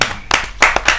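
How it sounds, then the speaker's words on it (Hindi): Audience at a Hindi poetry gathering clapping to welcome a poet: a few loud, distinct hand claps in about a second, close and irregular. "जोरदार तालियों से आमंत्रित कीजिए"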